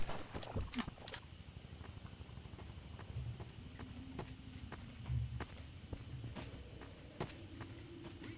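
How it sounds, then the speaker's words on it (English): Custom footsteps on slippery mud in Half-Life 2, a steady series of soft, squelching steps that stays faint and fairly close throughout. "We play custom footstep sounds when the player walks on the slippery mud."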